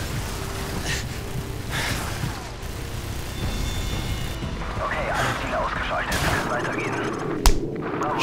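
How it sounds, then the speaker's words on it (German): Gunfire crackles and booms amid a battle over a fortified fourth-floor position in Call of Duty 4: Modern Warfare, steady distant shots and a sharp louder burst near the end, mixed with heavy rumbling ambience. "Wir stehen unter Beschuss durch eine befestigte Position im vierten Stock."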